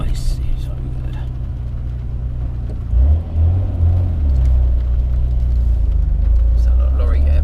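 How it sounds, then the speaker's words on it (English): A Nissan Skyline R34 GT-R in Japan makes a rev-matched downshift: a deep engine rumble swells with a throttle blip partway through and then holds, heard from inside the car over road noise. "But the noise on the downshift, so if you give it a little bit of rev matching"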